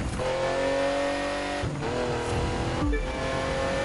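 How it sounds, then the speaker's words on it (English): A W16 turbo race car in The Crew 2 video game roars at high revs, a loud continuous engine drone with two brief gear-shift dips and pitch climbs, no voices. "W16 turbo engine,"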